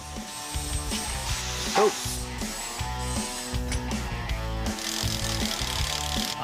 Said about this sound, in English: We're gonna bolt it up to our upper shock mount, and then we'll bolt it up to our lower control arm.